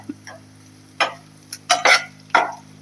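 Onions frying in a pan until golden, a faint background sizzle punctuated by several sharp scraping stirs and spatula taps in irregular bursts.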